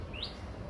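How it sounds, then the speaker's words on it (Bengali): A single faint bird chirp rises briefly over a steady background hiss, distant and quiet. "পাখির ডাক নিশ্চয়ই শুনতে পাচ্ছেন"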